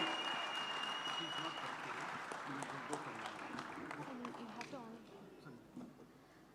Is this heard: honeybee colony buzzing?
no